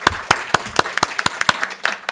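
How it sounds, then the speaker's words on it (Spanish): Light, sparse clapping from a small audience at a philosophy students' symposium, a quick run of distinct individual claps at an irregular rhythm, fairly close and moderately quiet. "Un fuerte aplauso, por favor."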